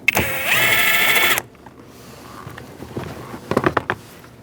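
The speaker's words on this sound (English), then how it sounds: "I'm going to take out the top bolt." A bolt being removed from the mirror of a 2004-2012 Chevrolet Colorado: a loud, whirring burst from a power driver for over a second, then quiet handling and clicking noises with a few sharp metallic clatters near the end.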